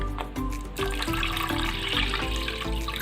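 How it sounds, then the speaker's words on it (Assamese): Water pours into a pan of thick butter chicken gravy, a continuous splashing, liquid pour with some bubbling, close and fairly loud, about three seconds long with no voices. "আধা গিলাচমান পানী দি দিলোঁ"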